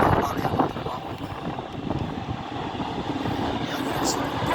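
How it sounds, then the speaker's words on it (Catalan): A metro train rumbles past in Sants, Barcelona, a steady low outdoor roar mixed with wind noise and faint voices, moderately distant. "ara passa un metro per aquí"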